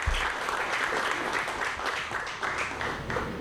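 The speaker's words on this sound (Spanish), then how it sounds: "Así que le pido un aplauso." Audience applause fills a panel discussion at a book fair, steady dense clapping sustained throughout at moderate volume with no speech over it.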